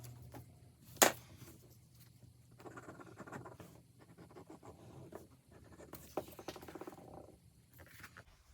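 A pen scratches across paper in a vintage Christmas journal, faint close scribbling in short bursts with pauses, opening with one sharp tap.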